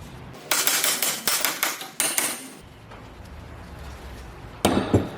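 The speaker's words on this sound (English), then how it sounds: "Or, you know, once again, use a hammer." A hammer strikes metal wheel bearing bolts on a 2005-2015 second-generation Toyota Tacoma 2WD Prerunner front hub: a quick series of sharp, ringing blows, then a pause and two more hits, close and loud.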